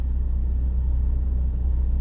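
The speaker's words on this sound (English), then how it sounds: "the motor kicks on" Ford F-150 PowerBoost hybrid pickup engine running at idle, a low steady rumbling drone with a faint pulsing throb, close and continuous.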